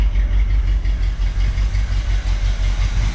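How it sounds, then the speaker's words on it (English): A 1976 Chevrolet C10 pickup engine idling after a start with its timing slowed, a loud, close, steady low rumble with a regular loping pulse and no voices. "Slowed the timing down a little bit so it idled, and fired her up."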